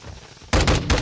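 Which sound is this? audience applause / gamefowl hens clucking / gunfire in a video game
gunfire in a video game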